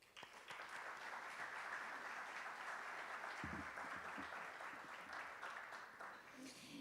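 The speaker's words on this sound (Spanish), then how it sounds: "A todos ustedes, un fuerte aplauso." Conference attendees at a mining and metallurgy congress applaud in a sustained, even patter of clapping, with a brief burst of voices partway through.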